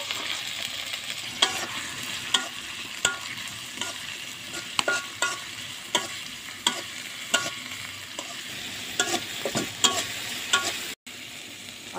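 Chopped onion and garlic fry in hot oil in a kadai, giving a continuous close sizzle broken by repeated sharp spatula scrapes and clacks.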